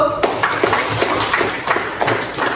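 A classroom group applauds a team of students with a brief burst of scattered, moderately loud clapping, mixed with background chatter.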